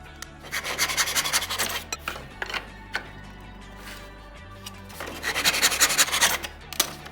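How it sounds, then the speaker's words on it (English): Two pieces of walnut wood being cut, heard as two bursts of rhythmic, close rasping strokes with a quieter gap between them. "Now I'm cutting 2 pieces of walnut at 8 1/2 inches."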